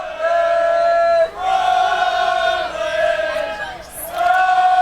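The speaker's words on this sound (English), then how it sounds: "the Empire sideline getting really loud now. Their fans and players with a Brooklyn cheer" Empire ultimate frisbee fans and players on the sideline at a playoff game against DC Breeze, chanting a loud, sustained group cheer in several held bursts with short breaks between them.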